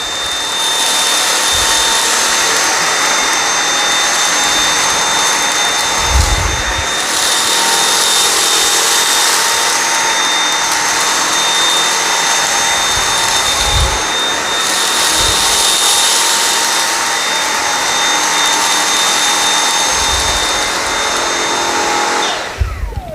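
A Dyson V7 Motorhead cordless vacuum cleaner runs on low power with its single-speed brush bar, a loud, steady motor whine close by, with dull thumps recurring as it makes passes over the floor.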